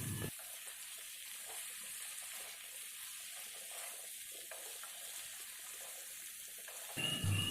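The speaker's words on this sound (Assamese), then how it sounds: "মাংসখিনি এনেদৰে লৰাই লৰাই 1 মিনিটমান ভাজি ল'ম।" Duck meat fries in a pan while being stirred, giving a steady, fairly quiet broadband sizzle that runs throughout, with a brief louder clatter near the end.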